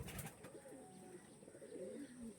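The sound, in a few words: pigeon cooing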